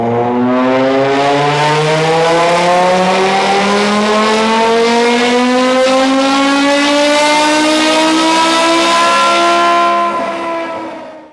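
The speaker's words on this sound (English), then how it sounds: "as soon as you hear the sound of the V10" A BMW E60 M5 with the S85 V10 engine revs in one long climb, its tone rising steadily for about ten seconds, very loud and close, then cutting off sharply. No voices.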